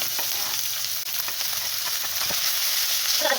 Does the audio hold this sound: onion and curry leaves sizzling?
yes